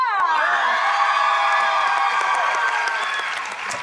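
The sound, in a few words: audience cheering and applauding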